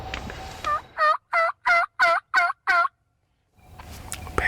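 A wild turkey tom gobbles six times in quick, rapid succession, loud and fairly close, with outdoor ambience before and after and a short silent gap following the calls.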